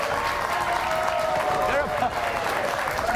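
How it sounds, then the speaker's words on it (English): Steady audience applause runs through the full stretch at an even level, with a voice talking over it. "they're applauding for the mafia."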